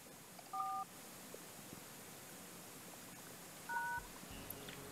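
A cell phone dials in the video game Thimbleweed Park, with two short, clean keypad beeps a few seconds apart over a quiet low background hum.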